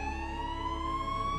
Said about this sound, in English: They placed a parking cone over a fire truck siren